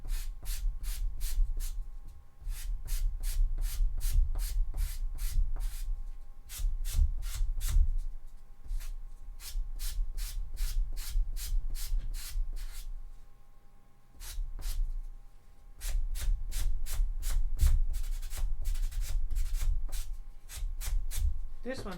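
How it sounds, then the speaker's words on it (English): Rapid rhythmic scratching of sandpaper rubbed back and forth over a black cosplay armour piece, steady and close, in bursts with brief pauses. "let's have a bit of a sand and see if we can make them a bit more equal"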